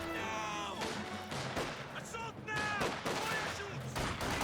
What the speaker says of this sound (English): Fragmentation grenade there, thrown out by the Panzer Fusiliers.